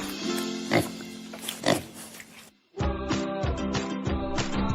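Pig oinks and grunts in repeated short bursts, close and loud, with a brief gap midway before a denser run of snorting grunts.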